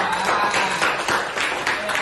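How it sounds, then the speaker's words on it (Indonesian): Classroom applause for a student discussion group, a brief burst of many hands clapping in a pulsing patter, with a voice speaking faintly underneath. "tepuk tangan untuk kelompok 3"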